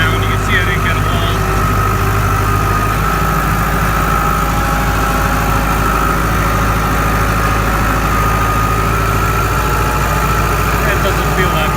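Tractor engine idling and running steadily while tedding hay in a new, steep field, a continuous loud low rumble with mechanical vibration throughout, no voices.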